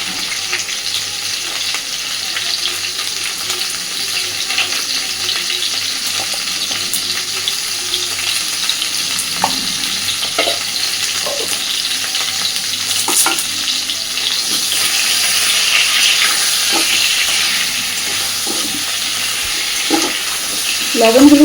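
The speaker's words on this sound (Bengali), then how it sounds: "মিনিট 2-3 খুব ভালোভাবে কুমড়ো আর আলুটা ভেজে নেব" Pumpkin and potato pieces frying in a pan with turmeric and salt, a steady bright sizzle with occasional stirring scrapes and clinks, loud and close, continuing without talk.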